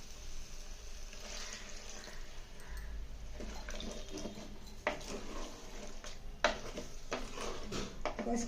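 Water splashes and trickles into a metal pot of mixed vegetable, chana dal and cashew curry, with a few clanks of cookware; quiet and close, no talking.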